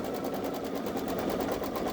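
A Babylock Solaris Vision embroidery machine stitching a design, its needle keeping a steady, fast mechanical rhythm that runs evenly and close throughout.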